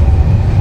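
Humsafar Express passenger train running, a steady loud low rumble throughout with a faint rolling clatter and no talk.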